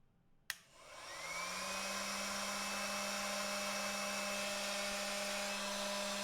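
An electric air pump fed by a potentially dangerous power supply clicks on, then runs with a steady, close motor whine and airflow hum that holds evenly to the end.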